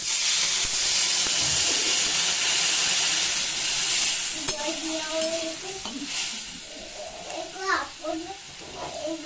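A loud hiss of sizzling rises as water hits frying potatoes in a hot pan, then fades and settles into quieter bubbling with a few stirring knocks and faint voices.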